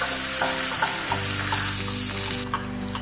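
Freshly chopped coriander sizzles in a hot pan as it sautés for a keto garlic butter prawn dish. A loud, steady fry hiss runs throughout, with occasional soft scraping and stirring knocks from a utensil and a slight drop in level near the end.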